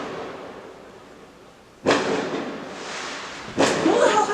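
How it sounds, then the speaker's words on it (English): Fireworks from a found box go off in April, two sharp loud bangs with crackling tails about two seconds apart over a quiet outdoor background, a voice briefly speaking. "Somebody found a box of fireworks"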